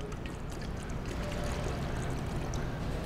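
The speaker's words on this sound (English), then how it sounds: "what we want to do is top this up with 1 gallon of water to the gallon mark" Water pours steadily into a fruit wine fermenter, topping it up toward the gallon mark with a continuous soft gurgling splash that stays even and fairly quiet throughout.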